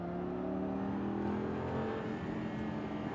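An exotic supercar accelerates hard along a racetrack, its engine note a loud, continuous, steadily rising roar heard up close with no talking.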